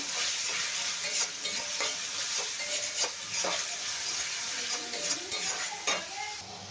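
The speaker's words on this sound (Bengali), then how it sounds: "একটু হলুদের গুঁড়ো আর একটু ধনে জিরের গুঁড়ো সামান্য পরিমাণ দিয়ে দিলাম দিয়ে এটাকে একটু কষিয়ে নেব" Turmeric and coriander-cumin powder being sautéed in a pan for a fish-head and taro-stem dish, giving a steady close sizzle with frequent spatula scrapes and stirring knocks throughout.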